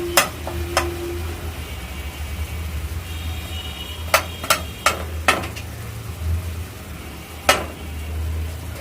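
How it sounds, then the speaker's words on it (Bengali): Cut brinjal and potatoes being stirred into chili paste masala in a pan, with a low steady sizzle and a few sharp clinks of the spoon against the pot edge, close and without talk. "মশলাটার মধ্যে আমি কেটে রাখা বেগুন এবং আলুগুলো দিয়ে দিচ্ছি। একটু নেড়েচেড়ে কষানোর পরে"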